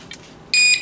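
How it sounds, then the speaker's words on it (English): Electronic beep from a small 1/24 scale RC crawler's handheld controller as it is switched on, a single short high-pitched tone about a third of a second long, loud and close after a faint click. "Controller's on, you get a beep."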